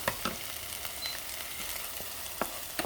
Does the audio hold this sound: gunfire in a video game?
no